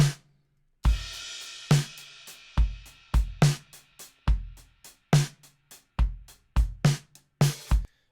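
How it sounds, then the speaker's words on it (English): An unprocessed full drum set bus plays a steady groove of punchy kick and snare hits with crashing cymbals, loud and close, before any reamping, with no talking. "So here's what the drums sounded like originally before getting reamped."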